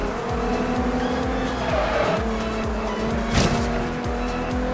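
A Toyota Supra racing in the video game Forza Horizon 2, its engine droning loud and steady with rhythmic revving pulses, tire squeal and a sharp skid near the end, no talk.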